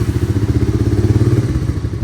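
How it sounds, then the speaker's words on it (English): A Honda three-wheeler engine, started cold with half choke, chugs close by in rapid, even, thumping pulses that ease slightly toward the end. "We're going to do a cold start on it"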